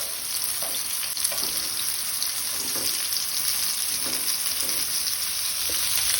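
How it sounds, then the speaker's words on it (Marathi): Mushrooms for a Goan mushroom fry sauté in a pan over a high flame, giving a loud, unbroken hiss with soft scraping stirs every second or so, heard close and alone. "मशरूम आता परतून घेऊया।"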